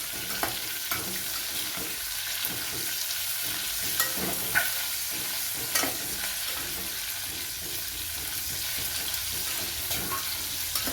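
Green chillies fry in hot oil in a pan, a constant sizzle with scattered pops and spits and occasional stirring scrapes, close and moderately loud, no talk.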